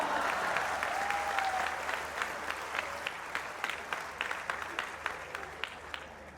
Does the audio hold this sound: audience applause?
yes